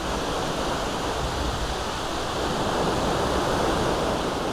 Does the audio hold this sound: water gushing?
yes